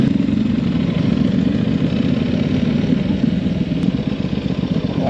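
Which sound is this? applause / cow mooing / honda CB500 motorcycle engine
honda CB500 motorcycle engine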